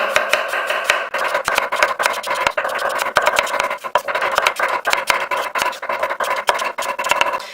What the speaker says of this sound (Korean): 이런 식으로 썰어서 보셨을 때 최대한 이렇게 얇게 썰어주시는 거예요